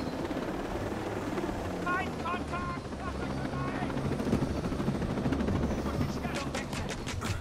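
A helicopter in the video game Ghost Recon Breakpoint flies with a steady loud rotor drone, with brief bursts of chirping and clicking over it and no clear talk.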